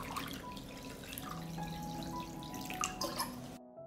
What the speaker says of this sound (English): I pour hot water into the pot.